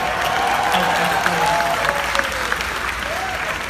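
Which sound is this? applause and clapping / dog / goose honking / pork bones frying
applause and clapping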